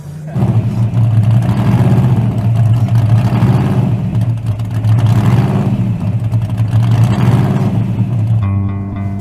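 A supercharged drag car engine with the nitrous bottle turned on roars loudly and close. Its revs surge and fall in heavy waves for several seconds, then cut off abruptly near the end.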